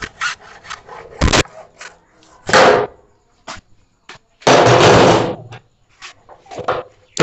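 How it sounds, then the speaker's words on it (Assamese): A hacksaw cuts through a PVC pipe in several separate rasping strokes, some short and some longer, loud and close with quiet pauses between them. "এখন আপুনি হেক্সো ল'ব, তাৰপিছত আপুনি কাটি ল'ব নিজৰ জোখ অনুসাৰে"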